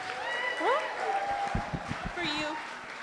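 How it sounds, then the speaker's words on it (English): Audience applause rings out at a trash fashion show, a steady wash of clapping and cheering with whistles, heard under and alongside a speaking voice. "a round of applause to every single one of you for joining us today"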